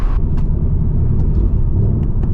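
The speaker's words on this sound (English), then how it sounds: "we got some cars coming up" Heavy low road rumble from cars near a 2024 Ford Mustang GT on a road, a loud steady engine and tire drone with a few faint clicks on top.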